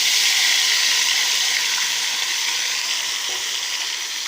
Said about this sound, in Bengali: এখন কাঁচা লঙ্কা আর আদার পেস্ট এখন আমরা কড়াইতে দিয়ে দেবো